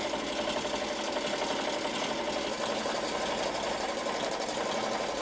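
An embroidery machine stitching plush fabric at about 750 stitches per minute, a steady fast mechanical whir and clatter, close and even with no pauses.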